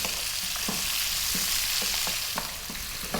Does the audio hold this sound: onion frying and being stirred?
yes